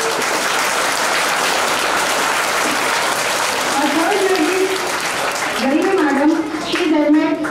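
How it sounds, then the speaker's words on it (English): A school auditorium audience at a student speaking event breaks into sustained, loud applause welcoming a speaker to the stage, with children's voices rising over the clapping toward the end. "Let's welcome her with a big round of applause"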